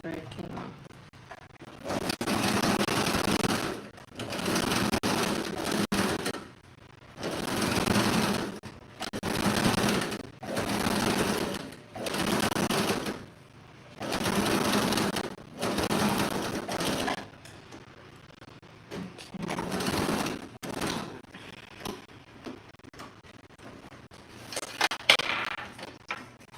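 A sewing machine restitches a pillow seam where the bottom thread came out badly, running in about eight short, steady bursts of a couple of seconds each, close by, with brief pauses between.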